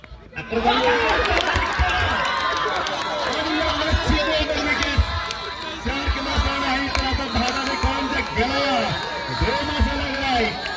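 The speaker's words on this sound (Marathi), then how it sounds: "आणि हा शेर पहा, जल्लोष पहा, शिट्ट्या वाजल्या जातात" A local cricket tournament crowd roars and whistles after a batsman is dismissed, a sustained loud swell of cheering with shrill whistles, under an excited commentator's voice.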